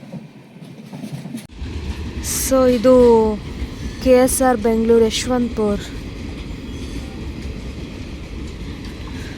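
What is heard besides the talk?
train arriving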